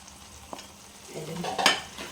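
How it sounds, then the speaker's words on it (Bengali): Fried prawns are stirred in a pan with bottle gourd for lau chingri, a quiet sizzle that swells under a brief scraping stir near the end. "এটা একবার আমি ছেড়ে দিচ্ছি একটু নাড়াচাড়া করে"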